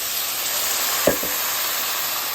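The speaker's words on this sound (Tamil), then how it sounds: "வெங்காயம் வதங்குறோம்" Onions sautéing in a pan for a potato curry, with a soft continuous sizzle throughout and a brief knock or stir near the middle, no voices.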